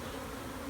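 Swarm of bees droning in a dense, continuous buzz that stays steady and close for a brief moment.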